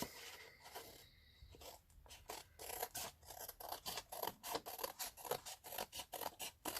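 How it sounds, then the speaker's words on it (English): Scissors cut a paper cutout in a quick run of crisp, close snips, a steady rhythm of about two to three cuts a second with no voices. "let's see if we can trim this one"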